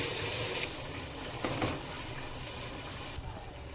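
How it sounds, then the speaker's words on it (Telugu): Washed rice is poured into a pot of water for biryani. The water splashes and gushes steadily at close range and fairly quiet, with a brief swell partway through. "మనము ఈలోపు మనం రైస్ కడిగేసి ఇందులో యాడ్ చేసేస్తున్నాను."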